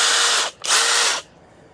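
A Kobalt XTR cordless impact driver on a 4 amp hour battery whirs in two loud, steady bursts with a brief gap between them, then stops, leaving faint room noise and no talking.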